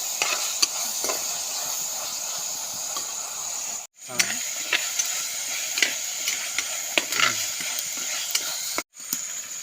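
Onion frying with rock salt in a pan gives a steady, fairly loud sizzle and hiss, with stirring scrapes and a couple of brief dropouts, and no voices.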